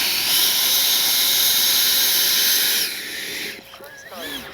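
The twin 80mm jet engines of a Freewing A-10 RC model jet produce a loud, steady rushing roar that suddenly drops and recedes, followed by a brief burst of speech.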